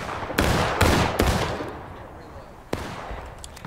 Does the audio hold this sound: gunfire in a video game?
yes